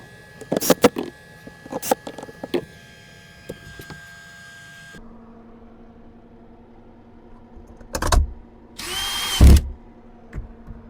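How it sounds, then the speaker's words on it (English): A power drill drives a few screws to hold inside molding in place temporarily, sounding as several short, loud whirring bursts with quiet pauses between them and a longer burst near the end. "put the inside molding on temporarily with just a few screws"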